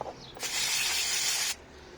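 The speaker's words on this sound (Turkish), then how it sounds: "bu soketimizin içine bir balata spreyi ile temizleyelim" Brake cleaner sprayed into the MAF sensor socket of a Ford Focus, a single steady aerosol hiss lasting about a second, close and clear against a quiet background.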